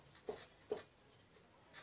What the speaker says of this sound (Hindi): दूसरा सेंटेंस लिखता हूँ मैं